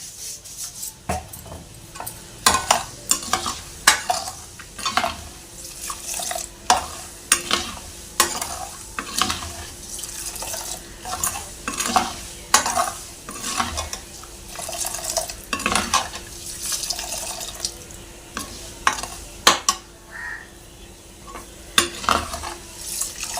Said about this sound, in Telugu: ఇప్పుడు ఆవాలు కూడా వేగినాయి కదండి